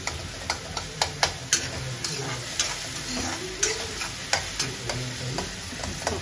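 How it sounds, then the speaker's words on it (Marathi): Food fries with a steady sizzle in a pan while a spoon scrapes and taps against it in regular, close clicks, about two per second, with no talking. "आता बघा आपण याला थोडं परतूया कारण की खाली लागलं नाही पाहिजे ना"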